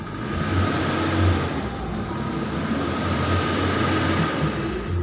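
A car engine is started and revved, producing a steady low rumbling drone that holds at moderate loudness throughout without clear rises.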